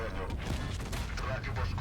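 A booming tank cannon shot from World of Tanks, a Rinoceronte firing at an E 100, cuts through steady game noise and explosions, loud and close.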